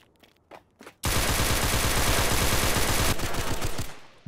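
Gunfire in the Roblox game Fallen Survival: a few faint clicks and taps, then a loud, close, sustained burst of rapid automatic fire lasting about three seconds that continues, slightly thinner, to the end.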